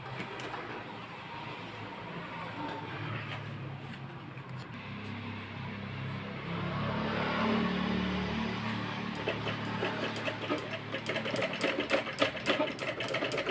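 A sewing machine stitching a blouse sleeve with a half-inch seam, producing a close mechanical whir and rapid needle clatter that grows louder and busier partway through, with no talking.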